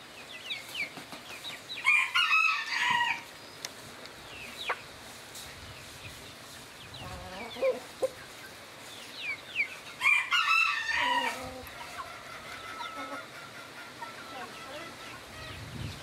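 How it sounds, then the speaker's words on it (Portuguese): A rooster crows twice in a rural farmyard, each crow a loud drawn-out call several seconds apart, with clucking chickens and faint background noise in between. "Agora tá chegando o galo aqui."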